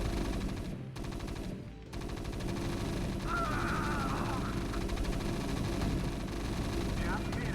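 Rapid gunfire from Marines and siege tanks in a Terran versus Terran StarCraft Brood War match, a dense steady rattle of shots and blasts running throughout, with a commentator's voice over the battle noise.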